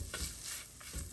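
Squid and onions being stirred in a frying pan give a close, continuous sizzle with soft rhythmic scraping and pattering as the stir-fry is moved around.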